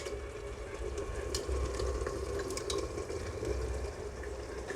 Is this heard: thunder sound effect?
no